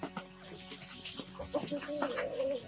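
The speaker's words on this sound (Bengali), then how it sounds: "এখানে আমার প্রায় 22টি মুরগি রয়েছে" Native desi hens, about twenty-two laying birds in a bamboo-and-polythene shed, cluck and cackle in short repeated bursts at close range, with steady farmyard noise behind them.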